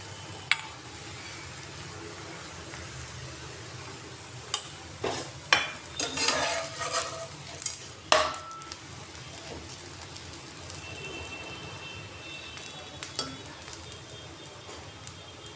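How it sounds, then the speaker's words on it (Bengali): A paratha toasts in a pan with a soft continuous sizzle, broken by a few scraping, clattering turns as it is flipped. "এইভাবে পরোটাগুলো আমি সেঁকে নেব।"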